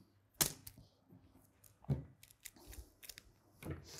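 Scissors cut through fabric, a few quiet, sharp snipping clicks spaced irregularly against a near-silent background, close to the microphone.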